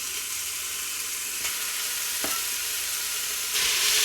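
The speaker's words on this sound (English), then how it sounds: "And I'll chuck my steaks in." Beef steaks sizzle in hot olive oil in a slow cooker, a steady close hiss and crackle with a few sharper pops, swelling louder near the end.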